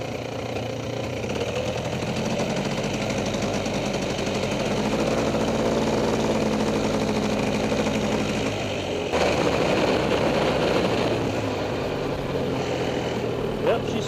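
A freshly rebuilt Polaris 400 engine runs at a loud, rough idle, its choppy rattling beat continuing nearby, briefly swelling midway before settling back.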